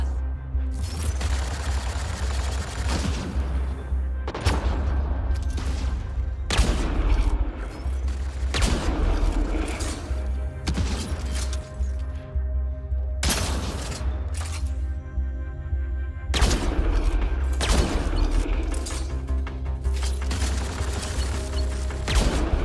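Turret gunfire in Mass Effect: Andromeda against outlaws on Insanity difficulty, heavy bursts of shots and booming impacts repeating in clusters across the scene, loud and close over a steady low rumble.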